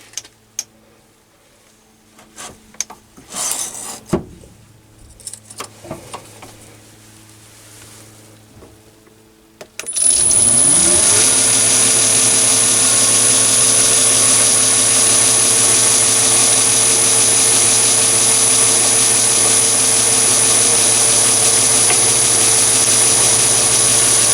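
After some quiet clicks and handling noises, a Chinese mini lathe motor switches on for centre drilling and runs with a steady, high-pitched whine and a constant mechanical hum.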